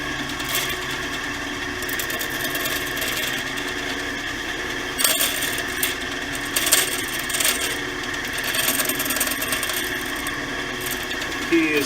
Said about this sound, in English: It's just much easier to do here on the bandsaw.